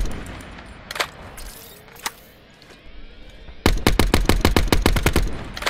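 Gunfire in a video game: a few isolated sharp shots first, then a rapid burst of loud, evenly spaced cracks near the end, heard close and alone.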